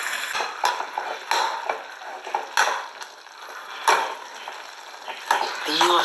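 Semolina being stirred into boiling water in a pan while making vegetable upma, heard as repeated scraping, stirring bursts with a steady bubbling sizzle underneath, fairly close and moderately loud, with no talk.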